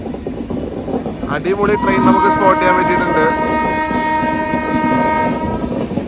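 The New Delhi–Thiruvananthapuram Kerala Superfast Express, hauled by a WP7 locomotive, rolls slowly along the main line near Wadakancheri, sounding a long, loud horn over rumbling wheels and clattering rail joints.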